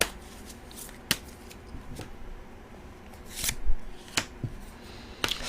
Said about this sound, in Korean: 제가 이 카드를 즉석에서 뽑아보도록 하겠습니다